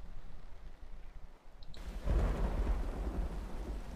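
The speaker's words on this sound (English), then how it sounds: "I said I'm back and I hear it raining." Rain and thunder in the video game Myst Online: Uru Live: a steady patter of rain, then a deep rumble of thunder that swells midway and holds loud and low under the continuing downpour.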